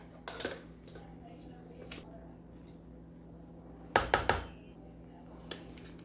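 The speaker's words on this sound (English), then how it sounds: "I'm just going to kind of stir those veggies in with the rice" A utensil scrapes and knocks against a pan while vegetables and rice are stirred together, with a few sharp metallic clatters over a steady kitchen hum.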